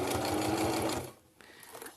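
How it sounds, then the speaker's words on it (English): A Brother heavy-duty sewing machine runs at a steady, rapid stitching pace for about a second, then stops abruptly, leaving only faint room noise. "I found an actual heavy-duty sewing machine made by Brother"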